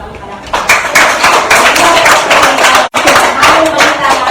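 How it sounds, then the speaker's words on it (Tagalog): Lively clapping from a church congregation welcoming the local pastor, a dense, loud patter of many hands that continues steadily, with one brief drop in the middle. "Ato siya magagan o masipang palakpak."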